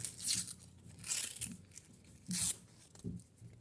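A roll of 2 euro coins being unwrapped, with a few bursts of tearing and crinkling paper wrapper alternating with short pauses, close and fairly quiet, no talking.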